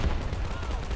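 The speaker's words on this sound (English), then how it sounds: "nice ammo explosion on the AT gun there" An anti-tank gun's ammunition cooks off in a wartime strategy video game, a dense rumbling explosion with crackling bursts that stays loud throughout the short moment.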